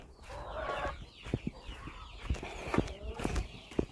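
A chicken clucks repeatedly nearby in short bursts, with scattered knocks and rustling around it.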